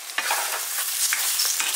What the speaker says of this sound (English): I'm cooking up a little bit of this mushrooms and spinach.